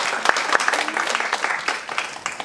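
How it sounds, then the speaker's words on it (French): Applause from an audience in an auditorium during a debate event, a brief burst of mixed claps with a few sharp loud ones, moderately close, with murmuring voices underneath. "On applaudit Flavie quand même,"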